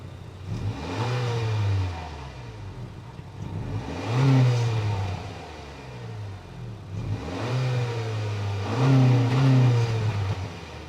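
A 2025 Honda Accord's 1.5-liter turbocharged four-cylinder engine revved while parked, three rising and falling rev blips over a steady idle, close and moderately loud with no talking.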